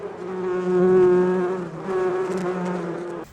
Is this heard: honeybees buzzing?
yes